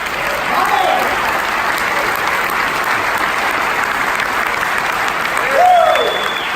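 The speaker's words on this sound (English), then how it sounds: "give a huge round of applause for my mentor" Steady crowd applause at an award ceremony rings out for a speaker's mentor, even and fairly loud throughout, with a brief cheer-like swell near the end.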